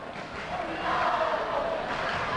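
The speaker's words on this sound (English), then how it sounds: "I'd like to see the crowd stay here and give their team a good round of applause for the effort they gave tonight" A gymnasium crowd at a high school boys' basketball game between Moline and Rock Island, Illinois, roars and cheers continuously, the noise swelling midway and holding at a steady level.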